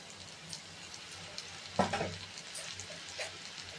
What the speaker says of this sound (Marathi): आता कांदा चांगला परतवून झालेला आहे, त्याच्यामध्ये आपण टोमॅटो घालूया।